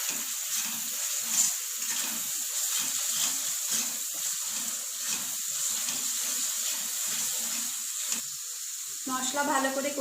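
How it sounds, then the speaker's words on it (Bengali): Spice paste mixed with beaten sour yogurt sizzles steadily in a pan for a potato curry without onion or garlic, with a continuous close hiss and soft stirring scrapes throughout. "আবারও মশলাটা একটু ভালো করে কষিয়ে নেব।"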